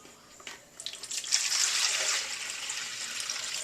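Cold water is poured into an empty container for soap-making, starting with a few splashes and quickly building into a steady close-up gurgling stream.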